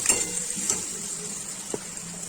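Chicken and onion fry in a pan for a Bengali red chicken curry, a steady close hiss and sizzle throughout with a few soft stirring knocks, no talk.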